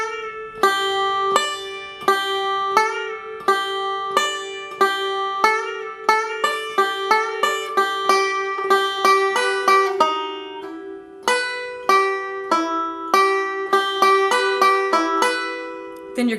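A banjo plays a high break alone, with quick bright picked forward rolls in a steady driving rhythm, loud and close throughout.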